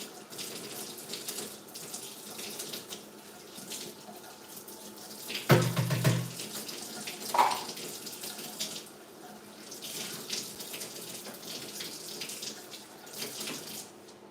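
Hot water runs from a kitchen faucet in a steady stream, a continuous hiss with one brief louder splash and clunk partway through, and no talking.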